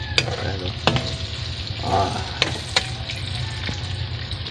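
Squid balls and mixed vegetables such as carrot and pickled papaya stirred in a frying pan: a steady sizzle under a few sharp utensil scrapes and knocks against the pan, near and fairly loud, with no one speaking.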